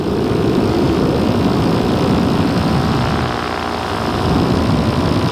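A small propeller plane taxiing drones steadily and loudly nearby, a constant rumbling hum with a slight dip midway.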